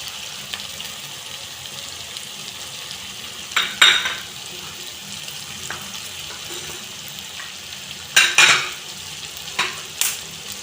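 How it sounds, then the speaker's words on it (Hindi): Tomatoes fry in a pan for a baingan bharta, giving a steady soft sizzle with a few sharp scraping stir strokes spaced several seconds apart. No voices. "थोड़ी देर इसको भूनूंगी मैं ताकि हमारे टमाटर जो हैं वो सॉफ्ट हो जाएं"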